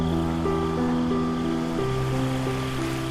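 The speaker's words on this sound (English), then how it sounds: "Only at this channel, the water is still running." Tidal water running through a channel at night on Pulau Ubin, a steady, continuous rushing wash that stays even throughout, with faint sustained tonal hums layered over it.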